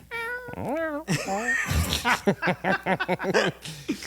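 A pet cat meows several times in clear, rising and falling calls at close range, brought along during an ice storm, with people talking around it.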